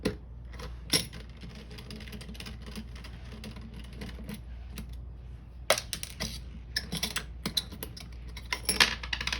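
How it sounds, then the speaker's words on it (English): Small screws being worked loose from a hard drive during a teardown, heard as scattered faint clicks and metallic ticks with brief louder clusters over a quiet background hum, no talking. "So we have to get these screws off."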